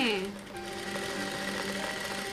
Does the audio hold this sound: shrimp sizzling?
no